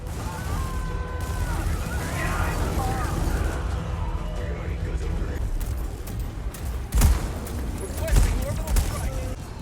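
Rapid bursts of gunfire and booming explosions from the co-op shooter game Helldivers 2 rumble continuously, with mechanical clatter, two heavier thuds near the end, and a voice talking over the top.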